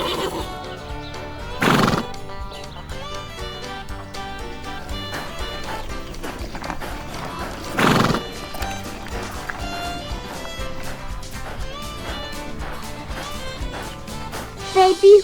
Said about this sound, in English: Let's go see the horses.